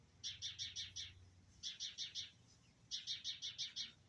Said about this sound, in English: I think the birds are calling out the alarm for you.